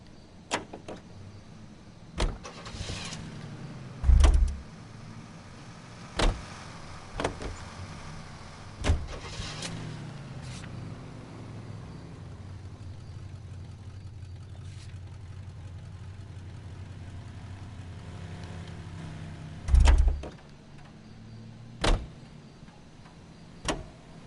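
A car in the video game L.A. Noire being entered and exited repeatedly: sharp door thumps and clicks at irregular intervals over a low engine idle hum, with a couple of heavier slams standing out, no talk.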